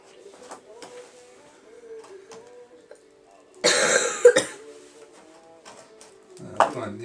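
During model railroad track laying indoors, a person gives a short burst of harsh coughs, close and fairly loud, with a later throat sound against quiet room noise and small handling clicks.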